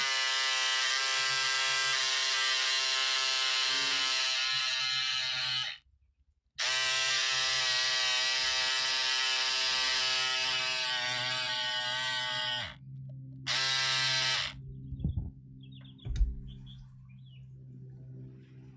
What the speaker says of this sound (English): You mean the electric knife?